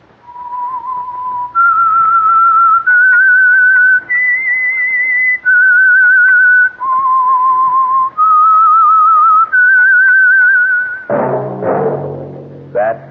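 A clear whistled melody of sustained, sliding notes rising and falling, loud and close, ending with a brief burst of different sound.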